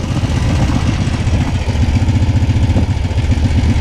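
An idling motorcycle engine with a light, rapid clinking from the timing chain, a steady close-up rhythmic clatter running throughout with no talk.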